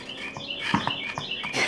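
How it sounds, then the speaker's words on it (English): Birds chirp faintly outdoors, heard from a kitchen during dessert preparation, with short, thin, high calls repeating at intervals under soft background noise. "I love the fact the birds are chirping."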